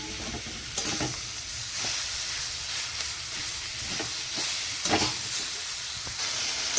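Chicken mince sizzles steadily in a pan of cooked-down spices, with a constant frying hiss and occasional stirring scrapes and clatters from a spatula, close and fairly loud, no voices.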